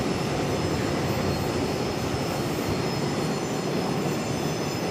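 Boeing 737 airliner passing at Charlotte airport, heard as a loud, steady, broadband jet engine roar that holds constant throughout without pause.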